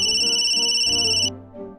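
An electronic telephone ringtone from a French children's cartoon about superheroes sounds as a loud, steady, continuous ring over low background music, then cuts off abruptly after about a second and a quarter.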